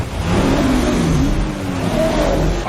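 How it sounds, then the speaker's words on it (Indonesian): Someone sitting inside a car revs its engine menacingly, a loud, close mid-pitched roar that swells and dips over a few seconds, with no talking. "seseorang duduk di dalam mobil itu dan memainkan gasnya dalam nada mengancam"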